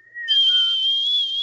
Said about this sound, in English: you hear a whistle coming from the alleyway